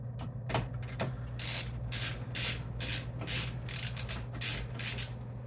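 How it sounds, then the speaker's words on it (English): Side screws being backed out of an MSI Gaming Trio OC RTX 5090 graphics card with a screwdriver, a run of close, scratchy ratcheting bursts repeating in a steady rhythm over a constant low hum. "we're just going to start taking these side screws out"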